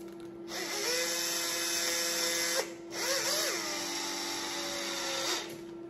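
Power driver running screws in during servicing of a Traxxas E-Revo 1/10 RC car, with aluminium parts: two sustained whirring runs of steady motor whine, close and loud, separated by a brief pause, no talk.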